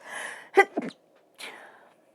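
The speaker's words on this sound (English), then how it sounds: "Oh, I'm going to sneeze." A single close, sharp sneeze preceded by a breathy inhale, followed by a soft exhale.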